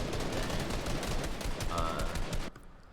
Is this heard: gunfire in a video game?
yes